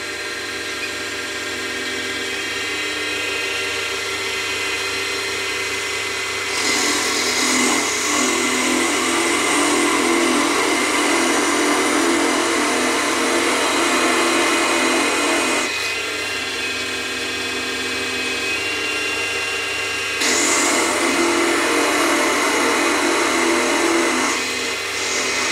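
A diamond drill bit bores through a white stone for jewellery, a continuous high whine with two louder grinding stretches as the bit bites in, then eases, steady and close.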